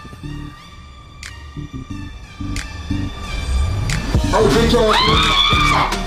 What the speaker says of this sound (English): why are these women screaming? That's still from the movie.